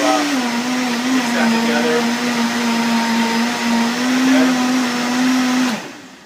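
A blender whirs loudly and steadily as it mixes banana juice, its motor pitch rising slightly as the speed is raised, then cutting off abruptly near the end.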